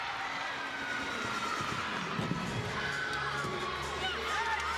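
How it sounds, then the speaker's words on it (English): A crowd of Beaver fans cheering at an NCAA gymnastics regional meet, a dense, continuous roar of voices and whoops in a large arena, steady throughout. "As you hear this crowd really come alive for the first time with all the Beaver fans"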